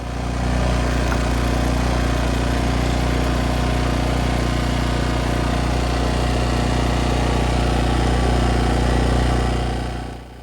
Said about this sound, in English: The generator started the first pull.